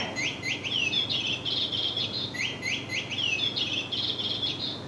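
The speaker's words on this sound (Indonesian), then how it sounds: "Dan burung ini akan mengeluarkan suara yang merdu." A small bird sings repeated bright, high twittering phrases over a steady low background hum, no voices.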